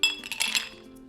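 Ice cubes dropped into a cocktail glass give a few quick, bright clinks close by, ringing briefly before fading, with no voices.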